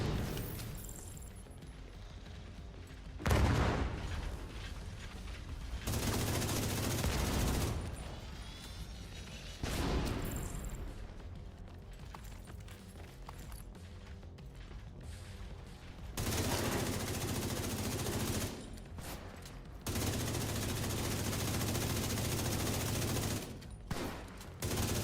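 Bursts of gunfire in the survival video game DayZ, repeated volleys and sustained fusillades at moderate distance separated by short lulls, with no one talking.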